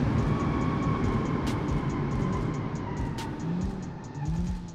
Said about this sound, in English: So let's test the brakes.